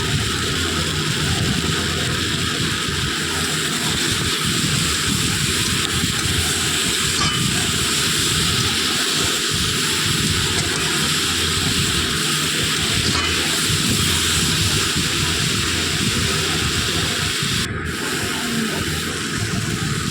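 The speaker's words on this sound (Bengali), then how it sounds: "দেখো কত সুন্দর করে আমি লাল লাল করে কষে নিচ্ছি।" Spices, salt and turmeric frying hard in a pan for a Bengali curry of brinjal, potato, bori and tomato, giving a steady, loud, continuous sizzle and hiss throughout with no talking.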